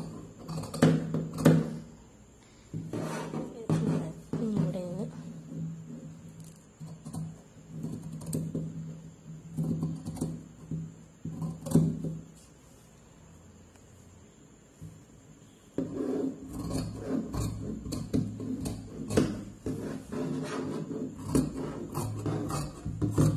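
Scissors cut through churidar fabric in irregular snips and rustles, close and fairly quiet, with a short lull in the middle before the cutting picks up again.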